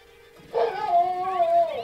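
Dog barking sounds played from an Alexa smart speaker: after a brief pause, a single drawn-out canine howl or whine rises and wavers, sounding close and clear, with no talking over it.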